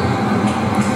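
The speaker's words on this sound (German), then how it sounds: "Das ist jeder Pendelzug nach Hönow." A Berlin U-Bahn shuttle train to Hönow runs past on an above-ground line, giving a steady close rumble of wheels and motor for the whole moment, with no voices.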